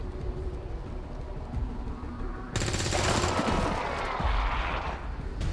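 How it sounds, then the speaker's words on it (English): Soldiers' weapons fire in the XCOM 2 video game: after a few seconds of low ambient rumble, a loud, dense burst of gunfire erupts and continues with rattling, crackling shots to the end. "go ahead and just fire on anyone you like"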